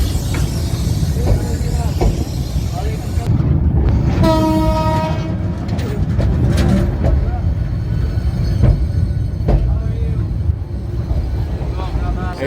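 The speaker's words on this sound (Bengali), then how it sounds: "এই যে আমাদের পিছন দিয়ে ট্রেনটি যাচ্ছে" Train from Cox's Bazar to Dhaka crossing the Kalurghat bridge slowly, loud rumbling and clanking of wagons close by with a long horn blast midway, under occasional talk.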